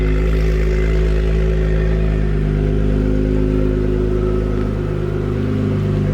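A loud car engine idles and revs inside a garage shop, a deep, steady, throaty rumble with a strong low drone that swells slightly toward the end, very close and dominating.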